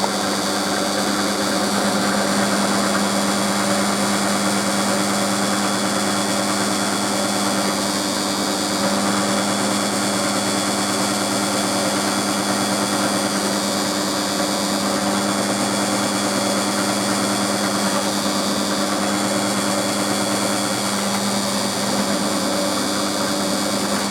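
A power drill runs continuously while a bit bores into aluminium, producing a steady, loud whine with no pauses for the full stretch.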